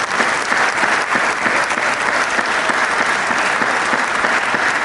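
Steady, dense applause from a large audience at a French African diaspora gathering, honoring the national technical director; continuous clapping fills the room at an even level without a break.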